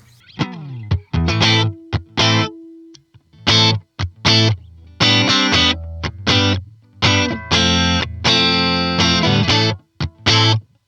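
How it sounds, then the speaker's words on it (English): A distorted electric guitar through a Line 6 POD Go patch with no reverb plays short, dry notes and chords that cut off abruptly, with no reverb tail, loud and close. "This is the sound of this particular patch without any reverb added."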